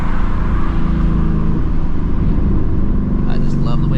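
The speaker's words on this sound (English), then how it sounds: "I just love the way this car sounds." A 2024 Mustang GT with the fourth-generation Coyote V8 and an H-pipe exhaust idles and burbles with a deep, throaty rumble, loud and steady throughout, while someone talks over it.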